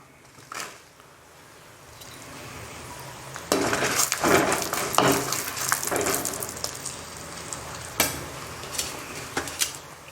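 Mustard seeds and dried red chillies frying in hot oil for Tamil onion chutney, a quiet crackle and sizzle broken by several louder bursts and clinks of a utensil stirring in the pan, with no talking.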